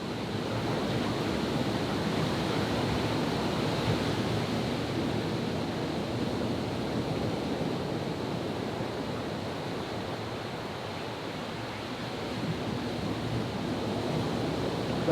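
Ocean surf rolls onto a beach as a dense, steady wash of broadband roar with slight wind buffeting, constant and fairly loud throughout. There is no speech.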